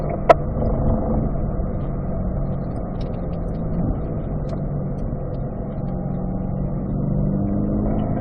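Engine note of a car on a race track under acceleration, a steady continuous drone with a faint rising pitch near the end, heard from inside the cabin with no talk.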